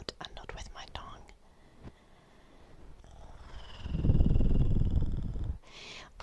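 A voice imitates a cat with a whispered throat purr made like a rolled R from the throat, soft breathy rasps that swell into a loud, close, rumbling purr near the end, with brief whispering before it, in an ASMR livestream.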